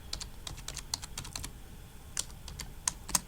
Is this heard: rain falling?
no